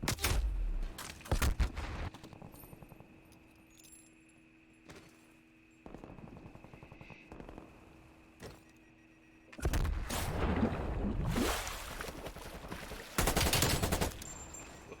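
AK rifle fire in a competitive shooter game, with repeated bursts of automatic shots and single cracks scattered across the scene, some loud and close, others quieter, separated by lulls of low ambient hum.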